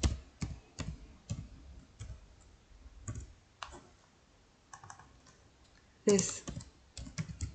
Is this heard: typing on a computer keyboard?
yes